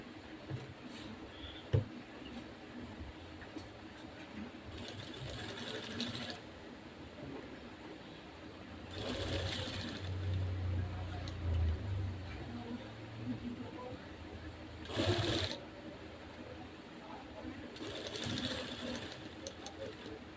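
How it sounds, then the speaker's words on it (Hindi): A sewing machine runs bursts of basting stitches along a suit's sweetheart neckline, several short mechanical whirring runs separated by pauses, with someone talking between them. "ये कच्ची सिलाई लगा रही हूँ मैं, पक्की सिलाई नहीं लगा रही हूँ"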